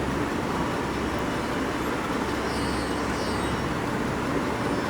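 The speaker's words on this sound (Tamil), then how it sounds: "இதை வந்து நான் மிக்சி ஜாரில் போட்டு நல்லா வந்து அடிச்சுக்கிறேன்" A kitchen mixer grinder blends boiled ingredients in its jar for an egg gravy, giving a steady, loud whirring roar that runs unbroken from start to finish with no talking.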